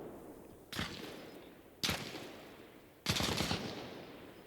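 Three loud gunshots from the Arma Reforger military shooter, spaced about a second apart, each a sharp broadband crack followed by a decaying echo over steady ambient battlefield noise, with no talking.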